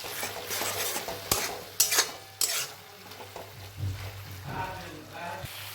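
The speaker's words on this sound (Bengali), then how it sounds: "এখন আমি এর মধ্যে দিয়ে দিচ্ছি টমেটো বাটা। টমেটো কাঁচা গন্ধ যাওয়া অবধি আমি মশলাটাকে আবার কষিয়ে নেব।" Spiced masala and tomato paste being stir-fried in a pan for Bengali steamed egg curry, with steady scraping strokes of a spoon and a sizzle of frying, plus a few sharper clinks against the pot, close and continuous.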